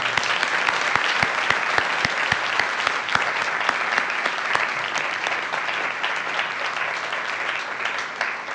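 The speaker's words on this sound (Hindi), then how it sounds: "आइए हम उनका तालियों के साथ स्वागत करें।" A church congregation at a ministry service claps together in welcome, a dense, steady applause with sharp individual claps standing out early, continuing evenly at moderate loudness for several seconds with little speech.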